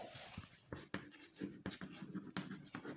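Chalk or a marker scratches and taps across a board during a maths lesson on ratio and proportion, making quick irregular strokes and dots at close range in a quiet room.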